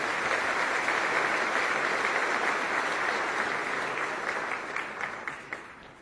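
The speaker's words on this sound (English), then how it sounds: "Nice round of applause" Sustained applause from an audience at a fireside conversation with a UAE minister, a dense, steady wash of clapping that holds loud for several seconds and then gradually thins and fades.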